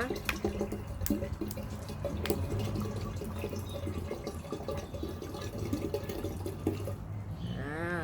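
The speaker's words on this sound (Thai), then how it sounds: "น้ำส้มสายชูนะคะ ใส่ไป ขวดหนึ่งเหมือนกันนะคะ" A full bottle of vinegar poured into a fermenting jar for a homemade insect-repellent mix, a steady close gurgling stream of liquid running throughout, with a voice briefly heard near the end.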